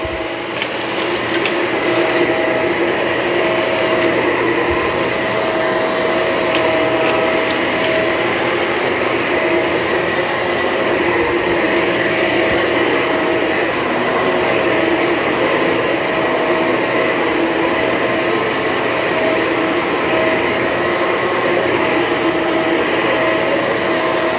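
A Shark Rotator Pet Lift-Away vacuum cleaner runs continuously with a steady, loud motor whine and airflow roar that holds constant throughout, with no speech.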